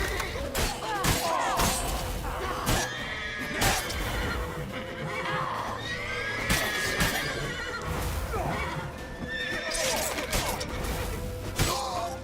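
Horses neigh and whinny repeatedly amid a busy, dense clatter of hooves, thuds and crashing noise, with shouting voices mixed in, in the video game The Witcher 3: Wild Hunt.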